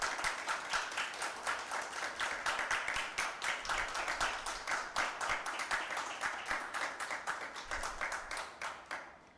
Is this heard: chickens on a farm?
no